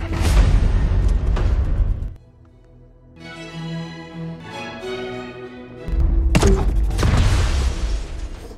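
A parked car blown up in an action film: two heavy, loud explosive booms with rumbling debris, separated by a quieter stretch of ringing and crackling aftermath.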